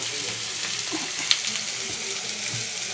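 Food frying in a pan until browned, a steady close sizzle with faint stirring and one brief clink partway through, no voices.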